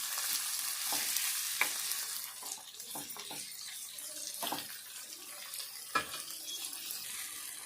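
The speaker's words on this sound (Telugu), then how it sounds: "ఈ టమాటా ముక్కలు ఈ పుదీనా ఇట్లా దగ్గరికి రావాలి, ఇట్లా ఫ్రై కావాలి." Tomato pieces and mint frying together in a pan for an egg curry, giving a steady close hiss with occasional stirring clicks and scrapes against the pan, no voices.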